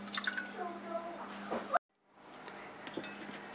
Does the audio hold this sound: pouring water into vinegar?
yes